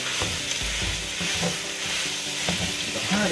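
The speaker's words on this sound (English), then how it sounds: "I'm going to be using some oregano to this as I cook the meat. Getting this browned up" Ground meat seasoned with oregano browns in a pan, a close, steady sizzle broken by scraping stirs and small spatters, with no talking.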